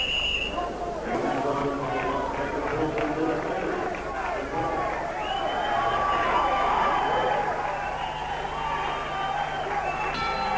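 Boxing arena crowd at a professional bout rumbles and cheers in a sustained roar, loudest in the middle, mixed with ringside talk and commentary.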